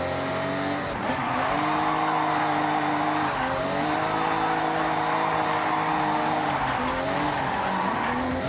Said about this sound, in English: technically drifting is like one of the slowest, least efficient ways to take a corner